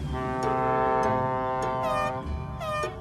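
Deep, sustained horn blasts sound repeatedly, several overlapping toots swelling and fading, like boat horns honking across a harbor.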